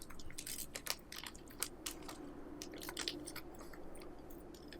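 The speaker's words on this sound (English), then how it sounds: "Professor, stop crunching!" Close, crisp crunching of food being eaten, irregular bites cracking over a low steady hum, with no voices.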